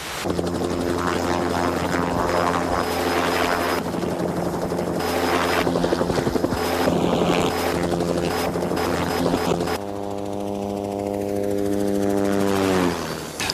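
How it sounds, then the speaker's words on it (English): A military helicopter flown by a Washington Army National Guard pilot roars steadily with the thumping chop of its rotor, loud and close, then the engine note shifts and its pitch slides downward as it winds down. "This is the machine I fly, a helicopter."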